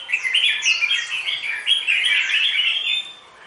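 A tame red-whiskered bulbul used as a decoy bird, hung up in its cage, sings a continuous bright, chattering song of quick tuneful phrases, close and fairly loud with no talk.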